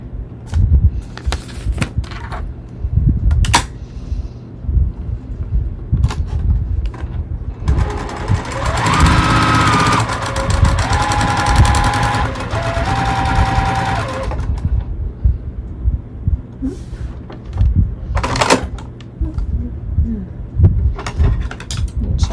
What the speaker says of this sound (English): I'm gonna stitch these together real quick